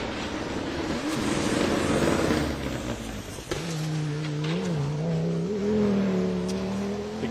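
A 2024 Subaru race car at a hillclimb in Sugarloaf, Pennsylvania, its engine droning loudly and steadily, pitch rising and falling through gear changes with a brief dip midway.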